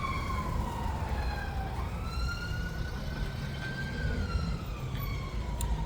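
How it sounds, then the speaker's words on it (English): A wailing siren rises and falls in long sweeping tones over steady road rumble, loud and close, with no talking. "Let's wait for the siren to bother up. But it's an ambulance."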